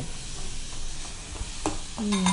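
Grated carrot frying in ghee with turmeric for carrot coconut ladoo, stirred in the pan; a soft sizzle runs under a few scraping stirs and light clinks, fairly quiet and close.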